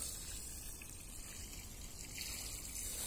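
Water pours steadily onto sand backfill of a foundation to compact it, a continuous soft gush, close and fairly quiet, with no voices.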